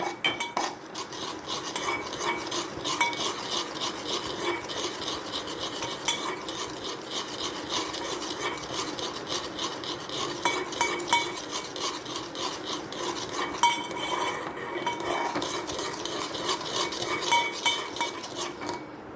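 Semolina roasts in a pan while a metal spoon scrapes and stirs it steadily, producing a continuous dry rasping and clinking rhythm that is close and moderately loud, with no talking.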